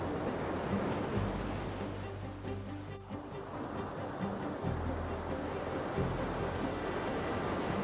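Atlantic ocean waves crashing against the base of a sea cliff on the Portuguese coast, a constant roaring surf with low rumbling surges and wind noise, heard alone.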